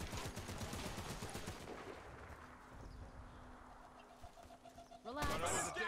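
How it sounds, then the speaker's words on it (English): Earthshaker gun fired in the shooter Warface, a rapid burst of sharp gunshots early on that fades into quieter ambience, with another loud clatter of sound near the end. "Using an Earthshaker gun."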